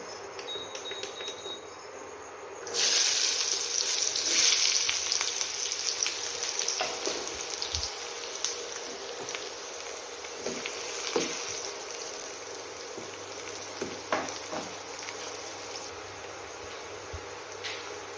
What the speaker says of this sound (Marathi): कांदा फ्राय झालेला आहे